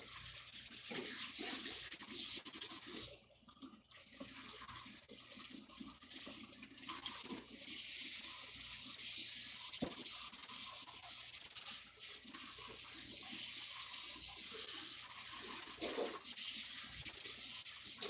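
Water runs steadily from a tap while hair is shampooed, a continuous close hiss with brief dips and splashy interruptions as the flow is disturbed, and no voices.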